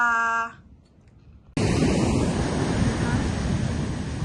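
Waves wash steadily near the shore after a short quiet pause, with wind buffeting the microphone; a brief voice-like tone opens the clip.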